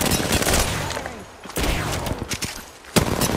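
Rapid bursts of gunfire in Apex Legends, loud overlapping volleys with short pauses between them, close and sharp, without talk.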